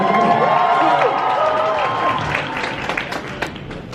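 Graduating class of 2023 cheering loudly, a packed crowd screaming and whooping with scattered clapping underneath, the roar easing slightly toward the end.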